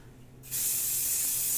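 A can of hairspray releases a sudden, steady hiss after a brief quiet moment, sprayed close by onto a charcoal drawing to fix it.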